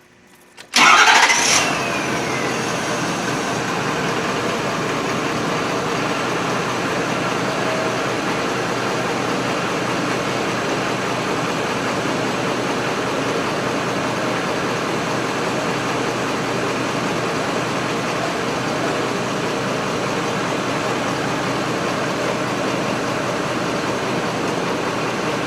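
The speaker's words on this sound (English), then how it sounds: "Let's start her up." A Ford 6.7 Power Stroke diesel pickup engine with a DEF fault, speed-limited, cranks briefly and catches with a loud burst, then settles into a steady, even idle that continues alone for the rest of the clip.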